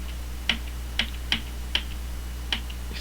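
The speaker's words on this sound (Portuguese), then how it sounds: "vou dar um enter" Computer keyboard keys clicking five times in an uneven rhythm, close and crisp, while navigating a text-mode shell installation menu, with no talking.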